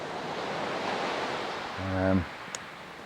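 A calm sea at night with little wind makes a soft, even wash of surf close by, and a short low hum rises briefly near the end.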